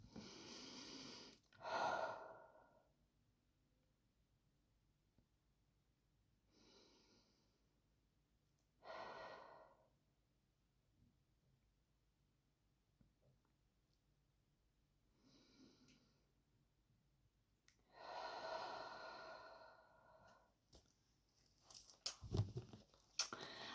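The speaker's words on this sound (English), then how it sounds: "let's do my 3 breaths" A person takes three slow, deep breaths, each a soft, airy inhale-exhale spaced several seconds apart, close and quiet, with a final longer, louder breath near the end.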